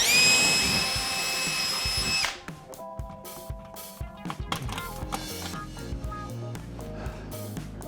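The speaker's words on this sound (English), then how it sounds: "I'm gonna drill a couple of holes in the drywall here real quick" A power drill whines at high speed boring through drywall for two seconds, then stops, followed by scattered handling clatter and small knocks nearby.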